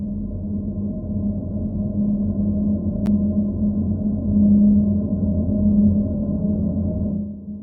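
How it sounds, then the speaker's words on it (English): A layered WW2 bomber dive sound effect forms a continuous, loud low drone with a steady hum that swells slightly toward the end, with no talk. "I have these WW2 bomber dives and it sounds like this."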